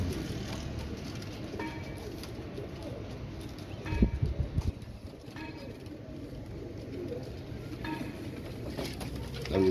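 Laal Pari pigeons coo softly in a loft, low repeated throaty calls near and far over a faint background hum, with a brief louder flutter of movement partway through.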